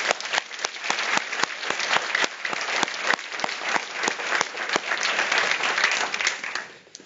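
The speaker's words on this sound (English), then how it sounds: "Let's give him another round of applause." Audience applause at an executive MBA graduation recognition ceremony, a steady dense wash of many hands clapping with sharp individual claps standing out, sustained for several seconds before fading out at the end.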